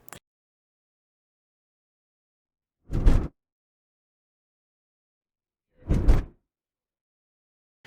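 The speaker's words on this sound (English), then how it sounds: "That's the front and then the rear axle driving over the crack." Two dull, heavy thumps about three seconds apart as a fifth-generation Honda Civic EG6 on Tein H-Tech springs crosses a sharp road crack, front axle then rear, set against near silence.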